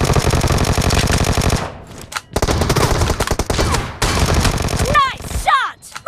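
Rapid automatic gunfire in the PUBG mobile shooter, loud and close, with dense bursts broken by brief gaps and a short burst of voices near the end.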